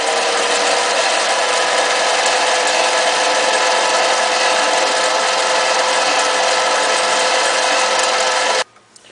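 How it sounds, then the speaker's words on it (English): A lathe faces the cut end of a fountain pen section, a loud, steady whirring hum that runs continuously, then stops abruptly near the end. "Now I'm going to face the end here after I've cut it down to length."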